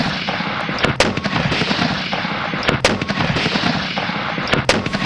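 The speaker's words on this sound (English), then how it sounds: "Our mortar boats hurl 200-pound shells in a bombardment that will last for 7 weeks." Heavy Civil War mortar boats firing 200-pound shells at a Confederate fort, loud booming blasts and cracks layered over a constant rumble of distant gunfire, with no voices.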